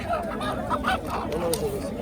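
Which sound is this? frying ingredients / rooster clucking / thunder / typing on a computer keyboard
rooster clucking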